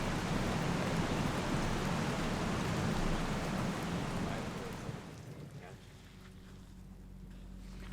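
Steady rain falling outdoors near a lake by a campground in West Virginia, a dense broadband hiss that stays loud for about five seconds and then softens to a quieter patter.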